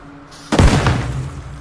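A single grenade explosion in ARMA Reforger: a sudden loud, close boom with a deep low thud that rolls off into a lingering rumble, with no voices.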